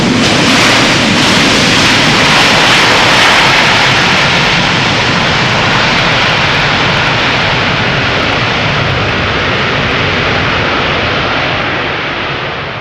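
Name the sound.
airliner landing at Schiphol with thrust reversers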